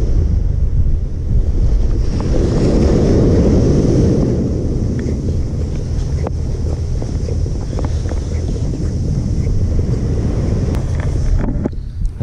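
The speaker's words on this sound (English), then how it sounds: "It's kind of like a little windy right now." Wind gusts at the beach on a breezy coastal day at the Dungeness crab season opener, buffeting the microphone with a loud, rumbling roar. Surf washes underneath.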